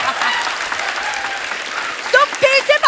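Studio audience applause on a Hindi comedy show, steady clapping that continues as a voice begins speaking over it toward the end.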